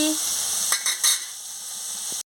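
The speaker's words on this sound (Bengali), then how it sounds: "আমি ভালো করে মশলাটাকে ভেজে নিচ্ছি। মশলা মানে পোস্তটাকে ভেজে নিচ্ছি ভালো করে।" Poppy seed paste with turmeric and chilli powder sizzles in a pan with a constant bright hiss, broken by a few scraping stirs before it cuts off.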